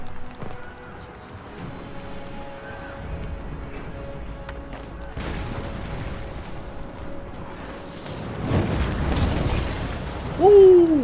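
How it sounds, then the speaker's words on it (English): An explosion goes off during a siege battle in Dragon Age: Inquisition, a broad rumbling blast swelling late over ongoing battle noise and mechanical clatter, with a rising tonal sweep at the very end. "That was an explosion."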